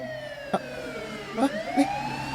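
A police car siren wails steadily at a moderate distance, its rising and falling tone continuous, with a few brief knocks over it, as a dramatic effect.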